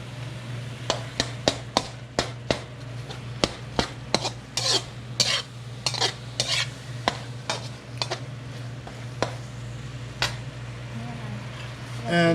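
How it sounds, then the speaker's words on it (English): Pork and palm sugar being sauteed in a pan for a Thai tapioca pork ball dessert: a run of sharp spatula scrapes and taps against the pan, irregular and close, over a steady low hum. "she's sauteing the palm sugar with the pork and mixture of the ingredients"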